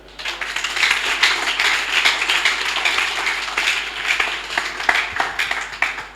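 A church congregation claps and cheers loudly for the Lord, with steady sustained applause and crowd noise filling the whole stretch at an even, full level.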